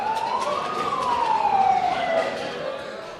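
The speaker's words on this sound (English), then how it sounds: "An ambulance has just arrived now, bringing casualties from the latest airstrike." A wailing emergency siren sweeps up and then falls as an ambulance arrives at a hospital with casualties from an airstrike, heard fairly close over steady road and background noise.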